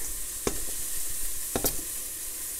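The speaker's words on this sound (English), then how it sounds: "I added less than a half of onion and 1 clove of garlic, and I'm just gonna let that cook down until the onions are clear" Half an onion and a clove of garlic sizzle steadily in a pan, a near, even frying hiss with two sharp clinks of a utensil stirring against the pan.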